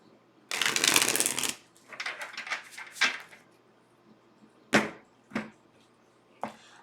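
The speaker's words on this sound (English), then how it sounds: "Okay, one more shuffle." Tarot cards are shuffled close by, a long riffling burst followed by shorter flicks and several sharp, separate card snaps in a quiet room.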